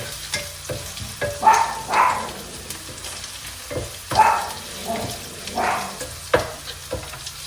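Onion, dry and green chilli, curry leaves and ginger stirred in a hot pan for kodo millet upma, with a soft steady sizzle and intermittent scraping strokes of the spoon, close and fairly quiet, no voices.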